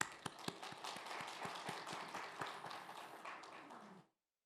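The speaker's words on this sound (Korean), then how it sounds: "함께 박수했으면 좋겠습니다" A church youth congregation claps together for the choir at a New Year's Day worship service, a loud burst of many hands with a few sharp individual claps standing out, ending abruptly into silence after about four seconds.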